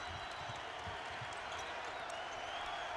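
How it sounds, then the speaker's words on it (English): Big Ten basketball arena crowd at an Iowa vs Indiana game, a steady loud roar of many voices filling the hall throughout, with faint thuds beneath and no clear single voice on top. "listen to this crowd"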